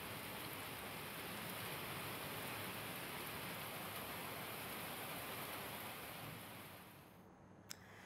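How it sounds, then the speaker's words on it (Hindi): Steady rain falling in Uttar Pradesh, India, a dense continuous hiss of drops that stays loud and even, then eases slightly near the end, with no voices. "यूपी में देर रात से बारिश हो रही है"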